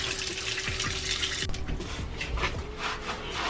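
Water sprays and splashes during a puppy's shower, a steady hiss of the jet over the coat with shifting patter as the flow moves, close and continuous with no voices.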